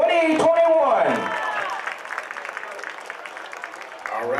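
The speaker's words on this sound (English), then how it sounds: "give us another great big round of applause for our homecoming court" A stadium crowd at a high school football game applauds the homecoming court with scattered, distant clapping and some cheering. It starts over a loud announcer voice and fades to a thinner patter.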